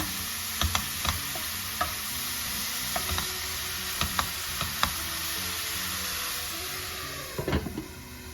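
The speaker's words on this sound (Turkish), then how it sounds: "Kıymalarımız kavrulmaya devam ediyor." Minced meat browns in a pan with a constant bright sizzle, while a spoon stirs it now and then with scattered clicks and scrapes; close by, no voices.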